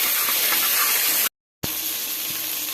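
Ginger garlic paste sautéing in a pan for veg pulao gives a steady, close frying hiss and sizzle, broken by a brief moment of total silence before the hiss resumes.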